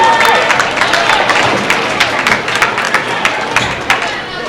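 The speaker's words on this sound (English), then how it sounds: "You can hear the crowd, their ladies team cheering them on right now." At a bowling match at the Glenn Carlson Las Vegas Invitational, a women's bowling team cheers and claps from nearby in loud, uneven bursts of sharp claps over a lively crowd murmur.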